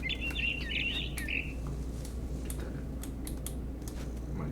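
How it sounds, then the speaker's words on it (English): A barn swallow chirps in What Remains of Edith Finch, a quick run of bright twittering calls over the first second and a half. A low hum and scattered light ticking clicks follow. "It was a barn swallow going back to her nest."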